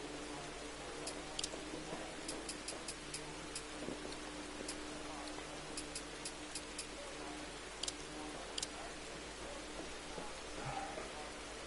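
Quiet, steady rainfall hiss with scattered sharp drip ticks in a PS4 rally game during a night stage in New England, soft and even throughout with no voices.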